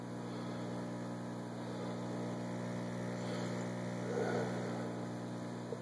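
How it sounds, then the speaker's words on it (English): Small aquaponic window-farm water pump with an air-lift system running steadily, a constant low hum and drone with tonal bands, faint and continuous throughout with no voices. "And we want to turn on the pump."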